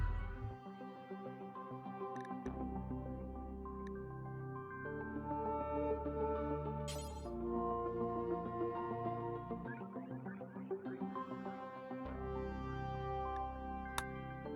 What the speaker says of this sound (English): So like the ritual ambiance sound sounds like this.